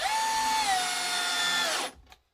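A power drill drives a thin-head screw into wood in one steady, high whine lasting under two seconds, then stops abruptly, followed by a faint click.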